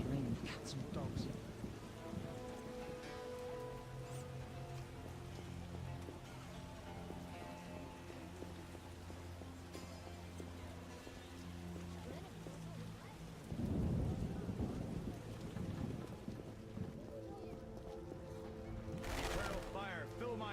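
Steady heavy rain hisses throughout with a loud thunder rumble midway, under background music and speech in a scene from the video game The Witcher.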